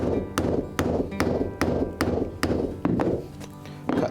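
Sharp repeated taps of a mallet on an inch-wide English point punch cutting the end of a leather dog collar, about ten evenly spaced strikes, close and alone.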